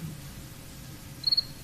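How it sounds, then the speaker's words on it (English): A cricket chirping sound effect: a brief, high trill of three quick pulses near the end, alone over a low background hum. "Crickets."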